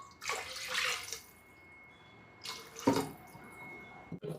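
Water poured from a glass into a pot of rice for gongura pulao, heard as two separate splashing pours close by, each lasting about a second, with quiet pauses between them.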